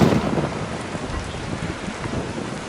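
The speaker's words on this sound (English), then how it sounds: "we got a thunderstorm moving in." A summertime pop-up thunderstorm moving in, with steady rain hissing on surfaces and low rumbling thunder underneath, continuous and fairly close throughout without any voices.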